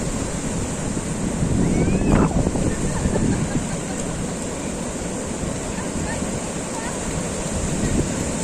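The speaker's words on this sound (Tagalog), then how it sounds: "Ayan na yung alon" Ocean waves break and wash up on the beach at Big Wave Bay, Shek O, a steady roaring surf with rumbling swells and hiss, under light wind noise and a brief faint voice.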